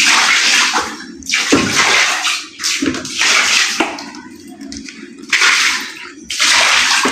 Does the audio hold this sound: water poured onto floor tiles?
yes